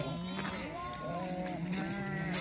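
Sheep being moved with their lambs to a new pasture bleat repeatedly, several wavering overlapping calls at moderate distance over a steady outdoor background hum.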